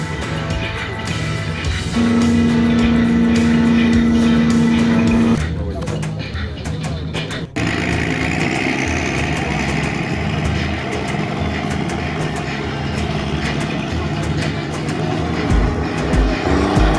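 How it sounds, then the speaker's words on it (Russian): A vehicle engine revving and droning steadily throughout at an off-road mud drag race, loud and close, with a person talking over it. "Что-то Паша газует рукой, я слышу."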